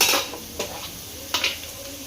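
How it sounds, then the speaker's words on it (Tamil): Ginger garlic paste being stirred in a pan while frying with chili powder for chicken biryani, a soft sizzle under a few light scrapes and clinks of a spoon against the pan. "இப்போ நம்ம உடனே என்ன சேர்க்கணும்னா இஞ்சி பூண்டு சேர்த்துடலாம்"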